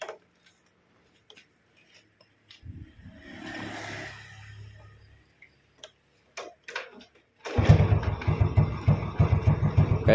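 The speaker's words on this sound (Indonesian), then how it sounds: "Saya nyalakan motornya dulu." A Yamaha Vega motorcycle engine cranks over, then catches and settles into a loud, steady idle with a fast, even putter, after a few quiet clicks and a brief hum earlier on.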